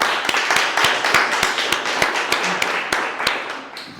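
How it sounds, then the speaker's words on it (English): An audience at a Las Vegas tech meetup applauds, giving a fairly close, loud round of clapping with distinct individual claps standing out over the general patter, fading slightly at the end. "So round of applause for Brandon."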